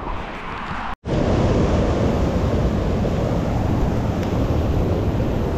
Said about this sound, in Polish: I prąd wody też jest niesamowity.